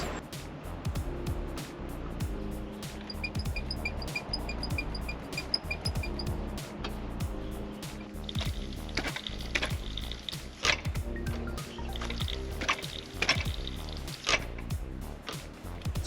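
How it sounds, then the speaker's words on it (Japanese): Front brake of a Yamaha RZ50 two-stroke motorcycle being bled of air, a long run of small clicks, taps and squishy mechanical handling noises close by, irregular and busy throughout. "エア抜きをしていきます。"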